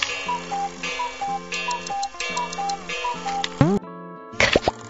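Cartoon clock ticking in a children's alphabet lesson, a steady tick-tock rhythm over a bouncy tune, ending with a brief swooping sound effect.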